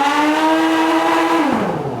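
A car revs hard through a trombone-style musical exhaust, a loud, close, sustained brassy tone with rich harmonics that holds steady, then slides downward in pitch near the end.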